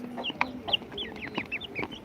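Several country chickens being raised on a farm cluck and chirp in quick, overlapping bursts of short high calls, close by over a low background hum.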